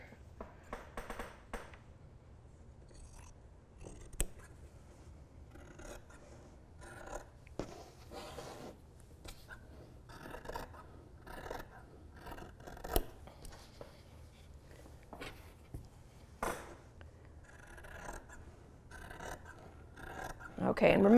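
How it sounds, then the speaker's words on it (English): Scissors snip through doubled layers of t-shirt fabric in a series of short, close cuts scattered irregularly across a quiet room, with a louder crunch near the end. "I'm just cutting 3 inches off because I think that'll probably be about right"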